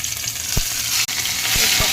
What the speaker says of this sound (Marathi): लसूण मिरची बारीक केले उकळीत ते टाकून घेऊ